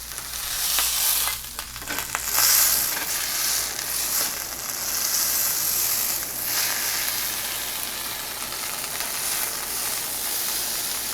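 Butter frying in a hot pan while preparing a filet, a steady close sizzle and crackle running throughout with a few louder spits near the start, no talking.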